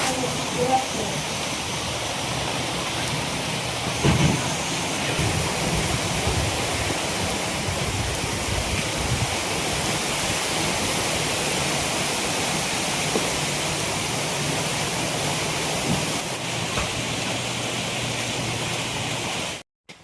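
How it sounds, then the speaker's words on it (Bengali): Heavy rain pours down in a dense, steady roar that holds at the same level throughout, broken only by a few faint knocks. "বৃষ্টি ভালোই বৃষ্টি হচ্ছে"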